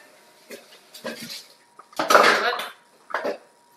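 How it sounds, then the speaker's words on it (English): Small cups being rinsed at a kitchen sink, with clinks of dishes and splashing water coming in short bursts, and a brief cough or voice sound mixed in. "I need to wash a couple little cups or rinse"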